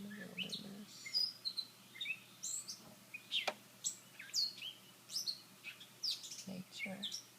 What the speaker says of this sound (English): Beautiful sounds of the birds in the wilderness.